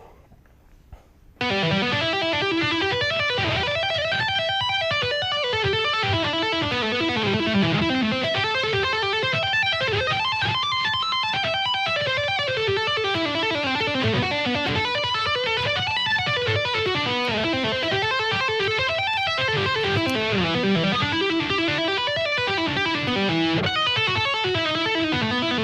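Electric guitar playing a twelve-bar blues tapping pattern at a slow tempo, with a steady, continuous stream of loud, sustained tapped notes rolling up and down, and no talking.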